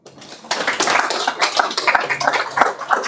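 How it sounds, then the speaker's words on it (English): A round of applause from an audience at a fireside chat on open data analytics, starting abruptly after a brief quiet and continuing as a dense, close, steady clatter of many hands. "Round of applause"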